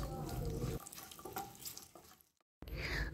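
Cashews and raisins frying in oil with bay leaves, a close crackling sizzle with stirring that thins out and briefly drops to silence before resuming loudly.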